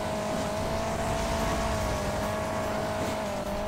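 Car engine in the Hill Climb Racing 2 mobile game drones steadily at a near-constant pitch, a continuous synthetic motor hum with no speech over it.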